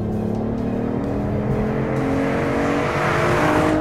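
BMW i8 hybrid sports car accelerating hard in sport mode, its engine note rising steadily in pitch as it pulls, loud and close throughout with no talking.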